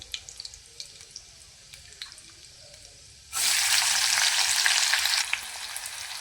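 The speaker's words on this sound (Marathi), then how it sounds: "कांदा आपल्याला एकदम बारीक गॅसवरती फ्राय करायचा आहे" Onion frying in oil over a low gas flame for a spicy soya chunks masala: quiet clinks and taps, then a sudden loud broad sizzle that holds for about two seconds before easing off.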